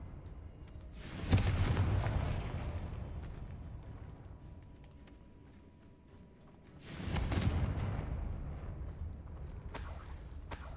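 A Confringo blasting spell in Hogwarts Legacy goes off twice, each time as a sudden, heavy, booming burst that rumbles and fades over a few seconds, with a quiet lull between.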